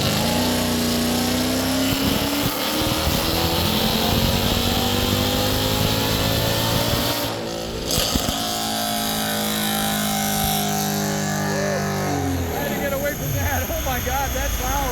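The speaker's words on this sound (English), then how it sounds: "The exhaust is like blowing me away." Supercharged Mercedes C63 AMG engine and exhaust on a dyno, a loud sustained roar rising in pitch through the gears, then winding down, with people talking over it.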